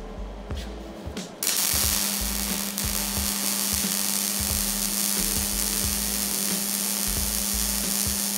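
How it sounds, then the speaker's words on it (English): A Hobart Handler 210 MVP MIG welder running on 115 volts lays a bead: a few quiet clicks, then a sudden steady crackling, sizzling buzz with a low hum that carries on close and continuous, with no voices. "run a little bead on here. Machine setup is 6 and roughly 30. We are on the 115 volt now. Let's make some welds."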